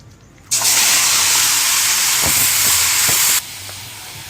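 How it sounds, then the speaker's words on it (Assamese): A loud, steady broadband hiss of pork sizzling in a hot wok starts abruptly, holds for about three seconds with a few clinks, then cuts down. "জুই জ্বলাই কেৰাহীখন গৰম হলত মাংসখিনি দিছো।"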